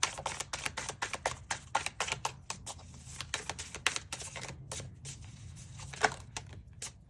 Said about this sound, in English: I'm shuffling.